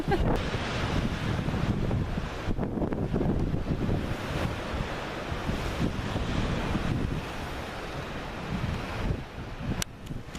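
Sea waves surge and splash against a harbour wall at Mousehole in Cornwall, a continuous loud wash of surf with wind buffeting the microphone and a brief voice near the end.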